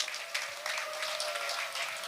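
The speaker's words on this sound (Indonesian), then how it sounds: "Tepuk tangan dulu buat Ida Indrawati" Applause from attendees at a school tree-planting and 2024 election outreach event, a steady wash of clapping that holds at a moderate, somewhat distant level for about two seconds.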